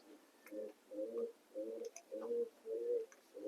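Pigeons in a breeding loft give low, rhythmic coos, about six soft rolling calls in a steady pattern, quiet and close with faint clicks in the background and no talk.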